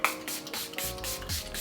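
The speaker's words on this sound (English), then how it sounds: "it's time to spray. So I use two different set-in sprays. Both are by Milani." Milani setting spray misted onto the face: a run of rapid, close hissing pump sprays, each a breathy burst, following one another steadily.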